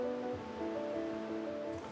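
Surf breaks on the beach at Borkum, a North Sea island, as a steady, broad wash of waves, moderately loud and continuous, with no voices.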